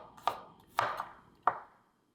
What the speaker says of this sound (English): Quickly cut 3 scallions into 2 inches long pieces.